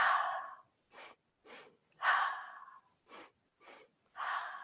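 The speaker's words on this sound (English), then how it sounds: "breathing fully into the belly and then into the chest" Breathwork in three parts repeats: a long, loud breath into the belly and chest, then shorter sharp breaths, heard close and alone in a quiet room.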